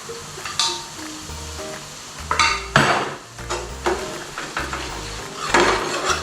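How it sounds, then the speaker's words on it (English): Base gravy goes into a pan of mango chicken curry, with metal utensils clinking and scraping against the pan and soft sizzling underneath, in irregular bursts. "I'm going to add some more base gravy."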